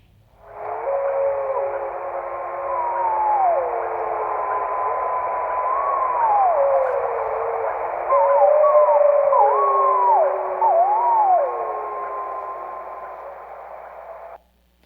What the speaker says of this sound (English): Pups howl in a higher pitch, often starting high and then dropping low like you're seeing there.